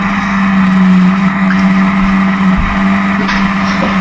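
Historic Formula Ford race cars battling through the field at Brands Hatch, a steady engine drone with a sustained low tone throughout, moderately loud and continuous.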